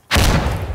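Frag grenade going off in the Insurgency Sandstorm video game: a single heavy, close boom with a fast attack, then a sustained rumbling roar that decays slowly.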